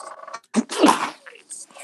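A single sharp sneeze bursts out close to the microphone, with brief bits of talk just before and after it.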